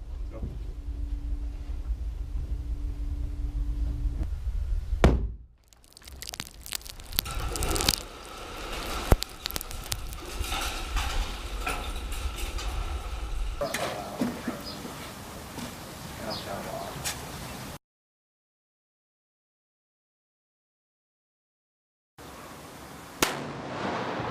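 Explosive charges set off outdoors, heard as sharp blasts and crackling bursts followed by scattered debris and rumble. The sound is loud and close, with people shouting around it, then a stretch of silence and another burst.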